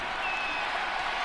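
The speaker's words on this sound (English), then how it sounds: "This crowd turning up the decibel level." Stadium crowd in Madden NFL 25 during a Titans vs. Falcons game on third and long, a steady, dense roar of cheering and applause that holds constant from start to finish.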